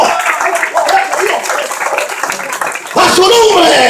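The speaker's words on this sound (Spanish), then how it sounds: "Ese aplauso al Señor" A church congregation claps loudly and steadily for several seconds, a dense wash of hand claps with excited voices and shouting over it. The clapping swells again near the end.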